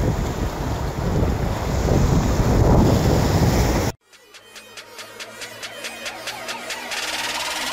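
Rough sea waves crash and roar against the Andaman shore, a loud, continuous rush mixed with heavy wind buffeting. It fills the first half, then cuts off abruptly to a quieter, different scene.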